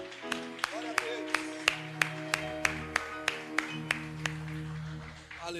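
A church congregation claps in a steady, even rhythm, about three beats a second, the sharp claps ringing over sustained musical tones and a low murmur of voices.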